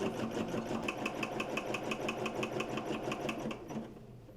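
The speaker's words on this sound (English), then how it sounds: "I'm going to hit the machine in the upper right corner to send it to the machine for stitch out." A home embroidery machine stitches out a design for a table runner, its needle hammering in a fast steady rhythm with a mechanical hum underneath, close and continuous before winding down near the end.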